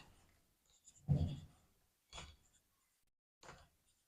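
Marker or chalk writing on a classroom board during an organic chemistry lesson, heard as three separate short bursts of scratchy strokes with quiet pauses between them and no talking.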